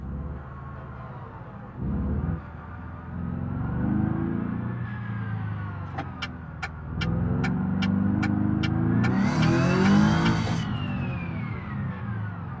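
Turbocharged car engine in the BeamNG driving game, rising and falling revs with a throbbing exhaust note, a burst of sharp pops midway and a high turbo whine toward the end.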